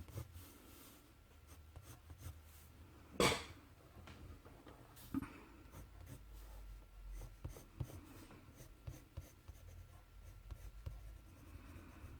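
Prismacolor colour pencils drawing a tattoo-style knight's gauntlet on paper make soft, close scratching and rubbing strokes, steady and faint, broken by a couple of sharper taps.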